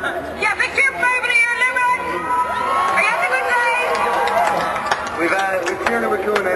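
Airline passengers cheer aboard a flight bound for Limerick, a loud burst of mixed voices shouting and whooping together, rising and falling for several seconds.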